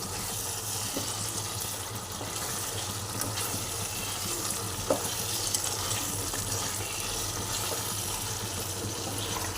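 Chicken curry gets mixed in a pan, heard as a continuous close hiss of sizzling and wet stirring with occasional soft knocks against the pan, steady and without talk.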